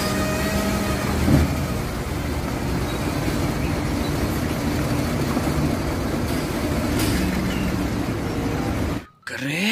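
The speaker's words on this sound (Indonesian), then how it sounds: "Truk molen, teman-teman." A cement mixer truck rumbles past with a broad, steady engine drone and road noise, loud and close for most of the pass before cutting off abruptly near the end.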